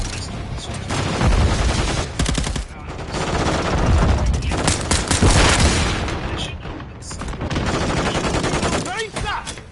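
Rapid gunfire bursts in the video game Modern Warfare 3 Hardpoint mode, loud and near, with dense automatic fire and sharp shots packed across the whole stretch, mixed with game effects.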